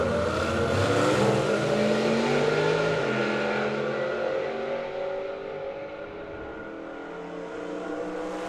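A drag racing car at the Mopar Euro Nationals makes a loud pass down the strip, its engine roaring hard and steady before gradually fading as it pulls away at about 150 mph.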